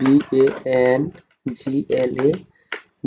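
Computer keyboard keys tapped while retyping a word in Microsoft Word, soft clicks mostly buried under a voice talking continuously.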